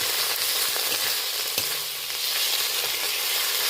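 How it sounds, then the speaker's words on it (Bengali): Garlic, ginger, onion and tomato sautéing in a pan for a chana dal and soybean dish: a steady, close, hissing sizzle with faint scrapes of stirring and no talking. "রসুনের সাথে আদা রসুন পেঁয়াজ টমেটো বেশ 3-4 মিনিট ধরে ভালো করে আমি কষিয়ে নিলাম।"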